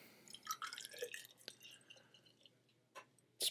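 Urban South HTX IPA beer is poured from a can into a glass: scattered liquid splashes and drips, a few sharp glassy ticks, and a louder splash burst at the end, all fairly quiet.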